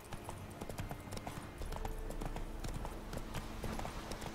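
Roach the horse in The Witcher 3 game, hooves clip-clopping in a quick steady rhythm, moderately near, continuing throughout.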